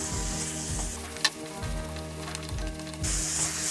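Masala with chicken masala powder sautéing in a pan for Kerala chicken masala fry, a soft steady sizzle with a single clear utensil clink, close and without talk.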